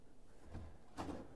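A kitchen drawer glides shut softly, with two muted thumps about half a second apart and no hard slam.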